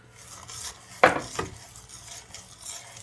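Milk being stirred for a homemade caramel frappuccino: one sharp utensil clink against the container, then softer scraping and swirling taps, close and fairly quiet.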